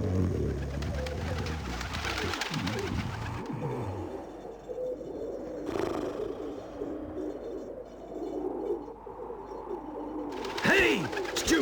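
Pigeons coo and flutter in the PlayStation game Legend of Mulan, a steady run of soft bird calls over game background sound with sharper bursts near the end.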